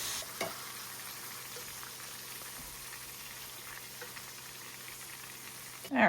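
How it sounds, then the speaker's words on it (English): Ground beef browning in a cast iron pan, a steady soft sizzle and hiss of frying fat running throughout at low level, with a brief louder clatter near the start and another right at the end. "now that our ground beef is pretty well browned, we're gonna go ahead and remove some of this fat"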